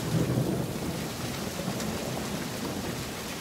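Deep thunder rumbles through a heavy hailstorm, blending with a loud, steady wash of hail and rain that stays constant across the whole stretch.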